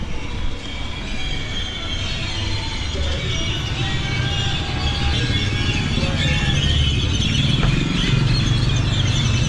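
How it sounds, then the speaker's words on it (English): A loud, dense chorus of many birds fills a Mexican town street at night, with countless overlapping shrill calls and chatter running continuously and steadily throughout. "The birds are going nuts."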